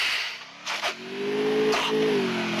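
Steady mid-pitched engine hum from a car in the Free Fire MAX shooter, holding then climbing slightly as it revs, with a couple of brief sharp clicks or shots breaking in.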